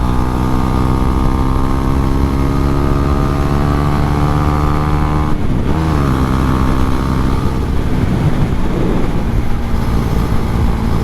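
A Husqvarna Svartpilen 401 motorcycle with a KTM 390 single-cylinder engine pulls steadily while being ridden, its tone rising under acceleration, dipping briefly and then climbing again, close and continuous with no talking.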